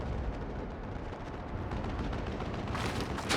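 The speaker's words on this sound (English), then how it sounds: "the undefeated flashbang" A flashbang grenade detonates in Final Fantasy XIV, a loud sustained broadband blast with a bright burst near the end, no talking.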